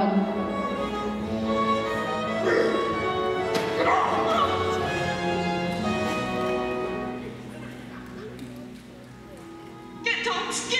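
A stage sound effect of wolves snarling, yelping and barking in an attack scene at a high school Beauty and the Beast production, continuous and loud under overlapping talk and music.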